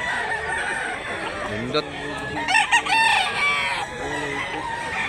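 A rooster crows loudly and close by at a chicken sale in Mantalungon, Barili, Cebu, with clucking fowl around it and people talking.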